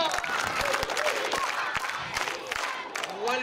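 Children at an orphanage event clap together in a lively burst with cheering voices mixed in, loud and close, with an adult voice briefly heard over the crowd.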